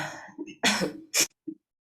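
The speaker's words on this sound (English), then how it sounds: "Sorry, I have a cough." A person leading an online yoga breathing class, who has a cold, gives a few short, close coughs with brief breaths in between.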